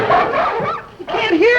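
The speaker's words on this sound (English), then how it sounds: "Well, of course they're barking right now." Close, loud dog barks and whiny yelps in quick bursts, with a short pause in the middle.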